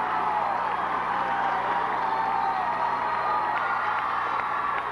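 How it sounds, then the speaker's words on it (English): Sustained crowd noise fills an arena at a 1990 college cheerleading national championship after the University of South Carolina routine, a continuous roar of cheering and scattered clapping that stays steady for the whole stretch. "South Carolina getting a great crowd response."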